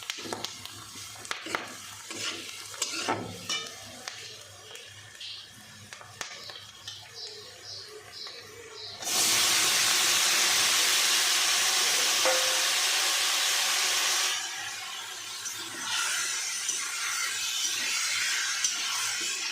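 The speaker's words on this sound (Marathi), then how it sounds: "हे सर्व आता टमाटे मऊ होईपर्यंत आपण त्याला आता असं परतण्यासाठी ठेवून टाकूया।" Chopped tomatoes and spices for chutney sauté in a pan, opening with scattered stirring clinks and scrapes, then bursting into a loud steady sizzle that eases after several seconds and continues more softly.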